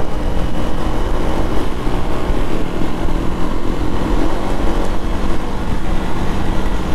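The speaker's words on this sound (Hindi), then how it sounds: "भाई एक बार लाउड चेक करो बाइकों का, कितनी खतरनाक आवाज कर रही है।" Yamaha MT-15 motorcycles roar loudly and steadily on a morning road ride, a dense, close engine and wind noise with no gaps.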